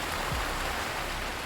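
Heavy rain falling outside a tent on a Himalayan trek in Uttarakhand, a steady, close, even patter with no breaks.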